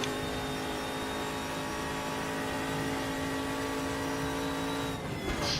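An LS V8-swapped GTR race car in a racing simulator holds a loud, steady engine drone at high revs, then the pitch drops briefly near the end.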